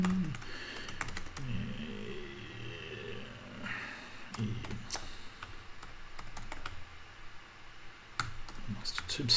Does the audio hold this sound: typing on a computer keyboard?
yes